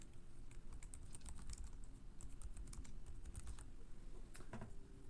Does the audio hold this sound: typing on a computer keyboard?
yes